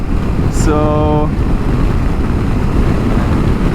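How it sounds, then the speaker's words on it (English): Loud, constant wind buffeting the microphone with a deep rumbling roar, a brief tonal whine in the middle, and a single spoken word. "It is very windy."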